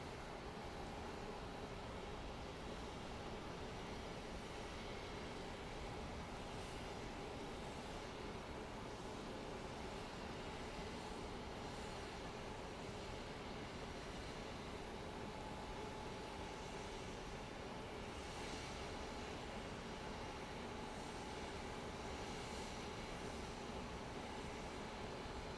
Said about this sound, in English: Alrighty, we have a plane coming in.